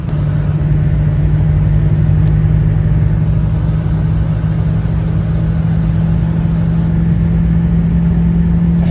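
A Ford 6.0 Powerstroke diesel pickup cruises at roughly half to three-quarter throttle, a loud, steady, close engine drone with a constant low hum and road rumble that holds for the whole stretch.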